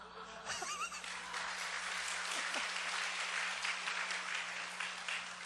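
Church congregation applause at a Korean gospel school lecture, a fairly soft, steady wash of clapping that holds for several seconds with no talk over it.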